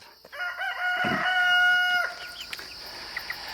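A rooster crows once nearby with a long drawn-out call, while hens cluck softly before and after, from chickens kept in a chicken tractor.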